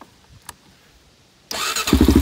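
After near silence with a faint click, a 2004 Honda 400EX ATV fitted with a slip-on exhaust fires up abruptly and settles into a loud, close, rhythmic idle with a thumping beat.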